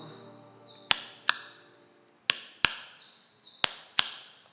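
A phone keeps sounding message notifications: six short, sharp pings arrive at irregular intervals, each ringing briefly before fading. They are clear and fairly close, with no voices over them.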